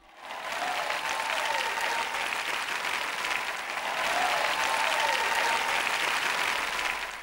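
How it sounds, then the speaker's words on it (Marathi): Church audience applauding steadily, a dense sustained clatter of many hands that swells slightly midway and carries on throughout, with no voices over it. "तुम्ही टाळ्या वाजवल्याच पाहिजेत,"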